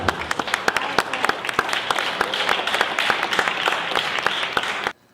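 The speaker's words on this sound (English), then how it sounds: "nice round of applause for Mr. Paul" Wedding guests applauding after a speech at a reception, a steady round of clapping with sharp individual claps standing out, continuing for about five seconds before stopping abruptly.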